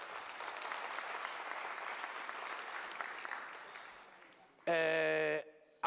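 Audience applause at a mayoral matric excellence awards ceremony, a broad crowd clapping steadily at moderate distance that fades down before a loud tonal musical burst cuts in briefly near the end.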